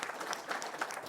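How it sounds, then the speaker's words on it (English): Audience applause at the close of a cybersecurity panel discussion: dense, steady clapping from a crowd, fairly close and even in level throughout, with no voices over it. "let's give them a round of applause"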